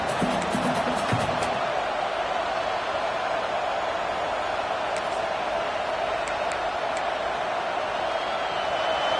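Football stadium crowd at a Nebraska versus Oklahoma State game, a steady broad roar of many voices holding constant throughout, loud and continuous with no single cheer standing out.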